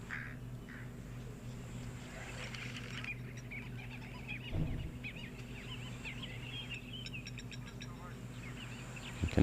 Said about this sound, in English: You can also hear the blacksmith lapwing.